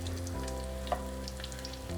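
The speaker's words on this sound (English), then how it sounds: "once we're done frying all of our taquitos" Chicken potato taquitos fry in hot oil, giving a steady, even sizzle that runs continuously throughout alongside a low constant hum, with no talking.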